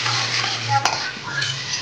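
Ready-made bhadang masala being stirred into puffed rice in a pan, producing a brief, close, continuous dry rustle and scrape with one sharp metallic tap partway through.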